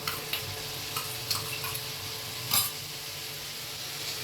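Cauliflower curry frying in a pan as spice paste is poured in and stirred, a steady soft sizzle with a few light scraping ticks and a brief louder splash partway through.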